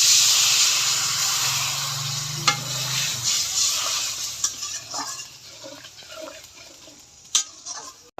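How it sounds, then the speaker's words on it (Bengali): Water hits hot oil fried with turmeric and coriander spices and bursts into a loud hissing sizzle. The sizzle fades over a few seconds while a utensil clicks and scrapes in the pan. "এবার পরিমাণ মতো জল দিয়ে দেব।"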